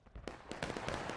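Artillery cannon fire in a Civil War battle game, with several sharp booming reports in quick succession over a busy battlefield background, close and fairly loud.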